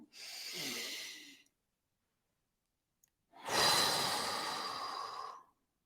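A person breathes deeply as a breathing exercise: one audible inhale, a silent pause while the breath is held, then a long, strong exhale sighing out close to the microphone.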